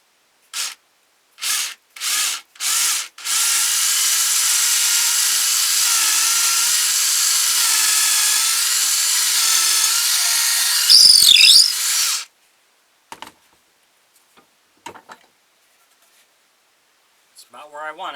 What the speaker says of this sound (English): I'm using a 1/4 inch drill bit for this.